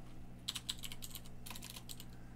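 Fingers type quickly on a computer keyboard, a quiet run of light clicks in two short bursts with a brief pause between them, over a low steady background hum.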